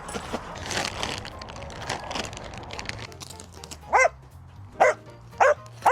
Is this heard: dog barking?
yes